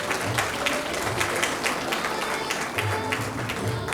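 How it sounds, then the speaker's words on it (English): Sustained applause from an audience at a foundation launch event for Hanuman Chalisa healing cards, steady dense clapping filling the room throughout, with faint voices murmuring underneath. "Let's give them a round of applause"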